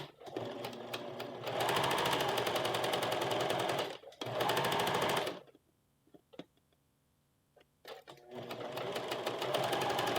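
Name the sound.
sewing machine stitching puff sleeve cuff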